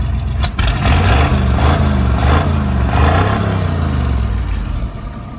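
A Chevrolet squarebody truck's engine idles in a steady, continuous low rumble close by, holding an even tone throughout with no talking over it.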